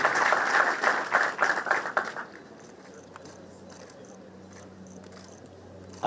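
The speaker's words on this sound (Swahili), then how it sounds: "Tumshangilie kwa makofi tafadhali." Applause for an award recipient at a Kenyan military ceremony honouring General Ogolla: a burst of hand clapping that is loud at first, then fades after about two seconds into quiet room murmur.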